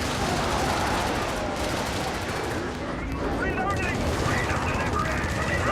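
Video game gunfire rattles almost nonstop in a thick, loud barrage of overlapping shots and distant booms, with a voice talking over the din.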